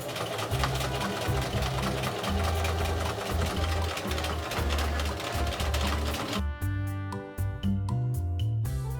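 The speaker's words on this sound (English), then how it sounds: "I quilted all the layers together using my machine." A sewing machine quilting through thick layers of old worn-out clothes, a steady rapid mechanical stitching whir running continuously, then turning into a slower, distinct clatter of individual stitches near the end.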